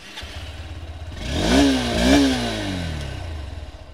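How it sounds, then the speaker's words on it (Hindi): A 2024 Honda Hornet 2.0 motorcycle engine cranks and catches, then revs up twice in rising surges before settling into a steady, close idle rumble. "अब ज़रा एक बार बंद करके मैं स्टार्ट करता हूँ और सुनाता हूँ"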